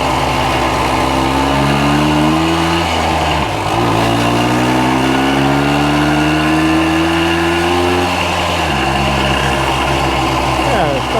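A 1965 Montgomery Wards Benelli scrambler motorcycle engine runs loud and close, its buzzing drone rising and falling through revs with a couple of throttle changes, while people talk over it.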